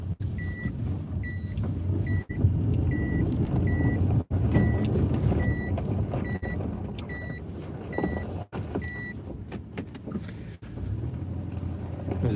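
A car backing up on a street in Anadyr, Chukotka, with a reversing alarm beeping at an even pace over a low engine rumble, close and continuous, with no voices.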